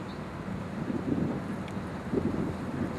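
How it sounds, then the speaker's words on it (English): Gusty outdoor wind buffets the microphone during a survival fire-starting test, a steady low rumble with a couple of stronger gusts and no voices. "And it's so windy today."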